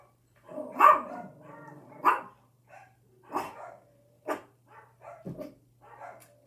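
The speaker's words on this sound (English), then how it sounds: "that I'm trying to break Boogie of a lot of his barking" A dog barks in a series of sharp, fairly close barks spaced through the moment, some louder and some shorter, with a faint steady hum underneath and no talking.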